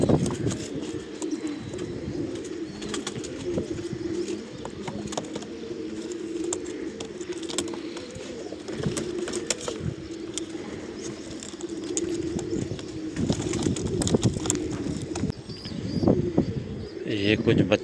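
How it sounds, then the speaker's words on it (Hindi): Sialkoti pearl pigeons coo in low repeated murmurs at close range, with occasional chirps and a flutter, while someone talks over them and handling noises break in. "ये मोती वाले कबूतर।"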